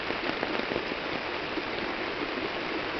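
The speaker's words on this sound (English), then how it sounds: "It is raining." Steady rain falls outdoors near a flooded creek, a dense, even hiss of drops with scattered closer patters and no talk.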